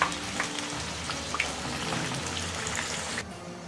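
Batter-dipped onion and potato pakoras bubble and crackle in hot oil, a steady dense sizzle with scattered pops heard up close and without voices.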